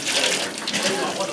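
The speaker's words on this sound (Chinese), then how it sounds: "扭开水龙头" A household tap that has been turned on runs in a steady, loud, hissing gush of water, continuing evenly throughout without any break.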